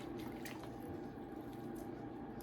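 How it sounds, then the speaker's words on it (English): An orchid's roots being doused in water while repotting, a continuous close splashing trickle over the whole short stretch. "Just dousing her good in this water."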